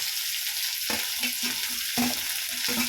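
Onions and tomatoes sizzle loudly in a hot pan, a steady hiss of frying broken by repeated scraping stirs at a regular pace.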